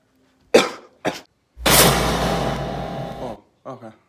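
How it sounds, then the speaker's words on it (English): A person coughs close by, two short sharp coughs followed by a longer rough, breathy burst, then a couple of quieter trailing sounds. "I was just a little bit of cough"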